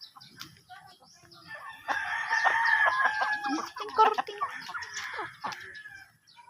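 Chickens cluck nearby while a rooster crows loudly through the middle, with scattered short calls from other birds before and after.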